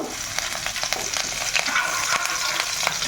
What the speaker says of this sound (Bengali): কড়ার মধ্যে প্রথমেই তেল দিয়ে দিয়েছি, আর এই যে কাঁচা লঙ্কা কুচি প্রথমেই দিয়ে দেব